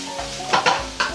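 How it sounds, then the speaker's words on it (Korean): Fine chili powder stir-fries in oil for jjamppong, a soft sizzle broken by several quick scraping strokes of a utensil against the pan, close and alone. "이렇게 볶아줍니다. 고추기름이 나와요."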